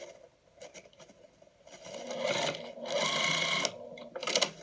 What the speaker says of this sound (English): now I'm sewing back to my double pins right here